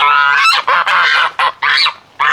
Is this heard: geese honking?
yes